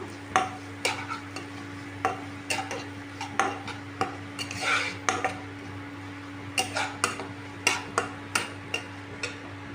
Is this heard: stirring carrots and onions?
yes